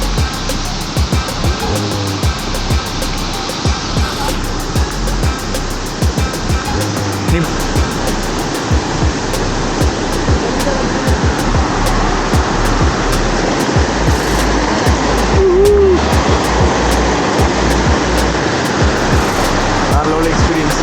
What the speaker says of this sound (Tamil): so guys first river crossing வந்தாச்சு